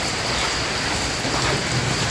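Steady rain pours down close by, a dense, even hiss that stays constant throughout with no voices or other sounds standing out.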